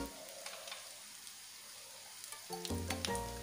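Whole mustard seeds, black mustard, fennel and nigella seeds sizzle quietly in hot oil in a pan, a soft steady crackle for a few seconds before louder scraping and clatter of a spoon stirring them toward the end.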